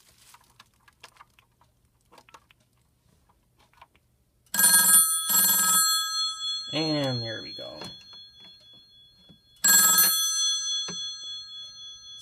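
A telephone on a Panasonic TA824 hybrid PBX rings loudly in two short electronic bursts and then a third after a pause. Someone speaks briefly between the rings.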